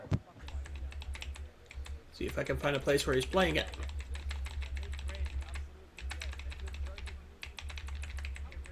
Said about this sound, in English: He's typing with such authority, folks.